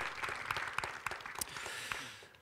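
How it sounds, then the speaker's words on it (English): Audience applause at a panel discussion, a brief patter of clapping from a modest crowd, fairly faint and distant in the room, fading toward the end. "a round of applause."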